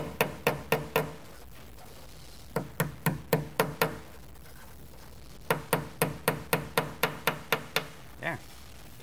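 Small hammer tapping silver bezel prongs over while making a reticulated silver bolo tie, with three bursts of sharp, rapid metallic taps in even rhythm, close and fairly loud, separated by short pauses.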